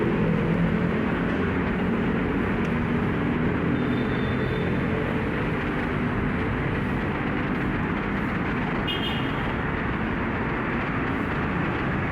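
Steady low rumble of an MRT metro train running, continuous and fairly loud, with faint high squeals of wheels or brakes now and then.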